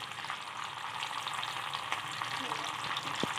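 Onions frying in oil left over from frying fish, a steady broadband sizzle throughout with a few faint utensil clicks near the end and no talking.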